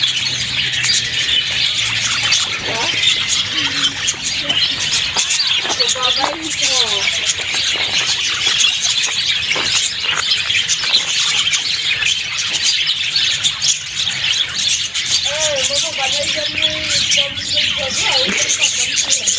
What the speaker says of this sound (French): C'est trop beau les perroquets. Perroquet est là.